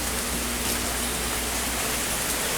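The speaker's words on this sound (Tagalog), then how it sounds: "Baka lakas ng ulan dito." Heavy rain pours down steadily beside a guppy farm pond, a dense continuous hiss with no breaks across the short stretch.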